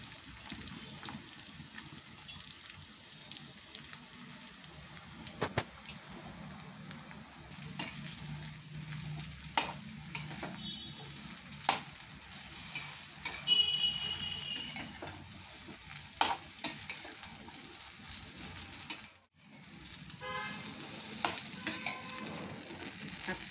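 Sabudana khichdi of soaked tapioca pearls being stir-fried in a pan, a soft steady sizzle broken by repeated scraping and clinking stirs of a spoon, close and moderately quiet, with no talk.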